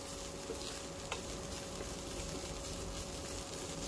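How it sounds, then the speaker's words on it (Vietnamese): Lemongrass and chili stir-fry in a hot pan, a constant close sizzle and crackle with light scrapes of the stirring utensil, loud and even throughout with a faint steady tone underneath. "Nó mình đảo qua đảo lại đều cho sả nó thơm thơm và vàng lên xíu."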